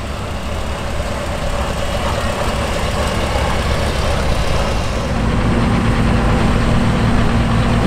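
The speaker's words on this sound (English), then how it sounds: "Comes another classic small row crop tractor" A Farmall 200 row crop tractor runs with a steady, loud engine drone, rumbling continuously with a slight shift in tone partway through at a parade of classic International Harvester tractors.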